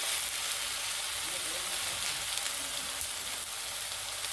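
Brinjal slices frying in oil on a tava over a low flame, giving a steady, dense sizzle that carries on evenly throughout.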